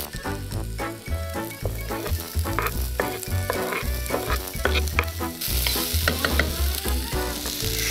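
Vegetables with corn frying in a pan, including onion and red lentils, with a loud continuous sizzle and repeated stirring scrapes close by over background music.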